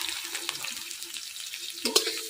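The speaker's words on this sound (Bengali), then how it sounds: "কাটে রাখা পেঁয়াজটা দিয়ে দিলাম।" Sliced onion dropped into hot oil already crackling with cinnamon, cardamom, cumin and garam masala for a Bengali egg curry, giving a steady close sizzle with a sharper hiss burst near the end.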